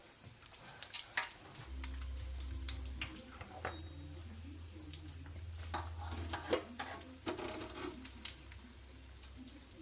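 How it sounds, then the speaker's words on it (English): Haggis pakora frying in hot oil, sharp crackles and clinks as pieces are lifted out with a slotted spoon, under a low hum from the kitchen. "I'll see if I can lift these out with a slotted spoon, whatever I've done with it."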